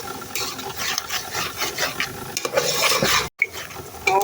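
A spatula stirs spice masala with turmeric and dried chili in a hot oiled pan, cooking it down for a North Bengal–style chicken curry. The scraping comes in a busy, uneven rhythm over a soft sizzle and breaks off briefly near the end.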